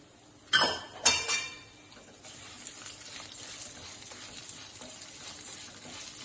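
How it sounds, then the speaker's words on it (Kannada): Moong dal dropped into a pan for roasting, with two sharp metallic clinks near the start followed by a soft, steady rattling sizzle as the lentils toast. "ಈ ಟೈಮಲ್ಲಿ ಹೆಸರು ಬೇಳೆ ಹಾಕ್ಬಿಟ್ಟು ಹುರ್ಕೋಬೇಕು"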